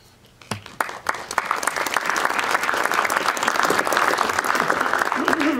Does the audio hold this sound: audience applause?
yes